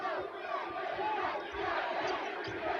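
Crowd at a 1989 NCAA tournament college basketball game between Pittsburgh and Ball State, a steady roaring mass of voices and cheers heard from a distance beneath the broadcast.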